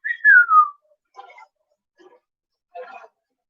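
A person whistles in imitation of a whistle from a film scene: one clear falling whistle near the start, followed by a few faint, short, scattered sounds with silence between.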